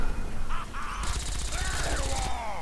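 Gunfire in the video game Fallout 3 during a fight with super mutants, rapid repeated shots in a fast rattling burst mixed with game effects and brief whooshing tones, fairly close and moderately loud.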